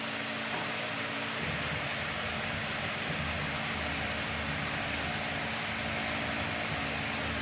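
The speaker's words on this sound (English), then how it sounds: "I'm going to go ahead and demonstrate the machine on a piece of 6 to 7 ounce vegetable tanned leather." A heavy-duty compound feed walking foot lockstitch machine stitches 6 to 7 ounce vegetable tanned leather, making faint, rapid, evenly spaced ticks over a low motor hum with no one talking.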